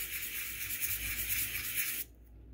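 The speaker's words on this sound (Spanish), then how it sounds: "lo que vamos a hacer con una lija 400, una bien suavecita, lo voy a lijar" Close, steady rubbing of fine 400-grit sandpaper against a surface, a soft continuous hiss that stops abruptly near the end.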